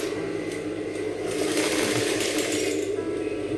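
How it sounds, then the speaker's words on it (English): A sewing machine stitches down the boning of a Victorian corset blouse, a steady continuous whirring run with a faint mechanical rattle, close and moderately loud with no talking. "I'm going to sew it down so that it doesn't move"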